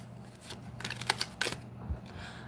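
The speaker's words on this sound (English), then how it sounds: "Cut the deck" A deck of tarot cards being cut and shuffled, several quick riffling bursts of card flicks close by in a quiet room.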